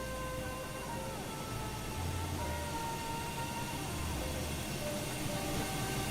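Amtrak Auto Train running at speed in Run 8 Train Simulator, a continuous dense rumble with steady tonal whine and hum throughout, loud and unbroken, no clear voices.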